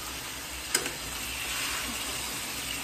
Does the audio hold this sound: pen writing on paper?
no